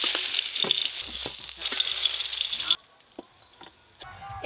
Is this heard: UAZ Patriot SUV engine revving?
no